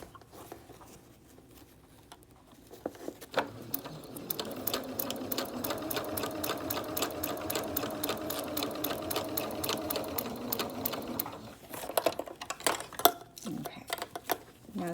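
A sewing machine stitches fabric for a three-dimensional singer's mask, a close, rapid mechanical clatter running steadily for several seconds with brief pauses and handling sounds before and after.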